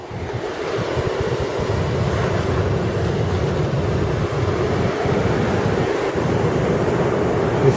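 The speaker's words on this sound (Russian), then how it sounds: "это океан, детка" Steady roar of ocean surf washing in continuously on a rocky beach at Santa Cruz, with wind buffeting the microphone throughout; no voices.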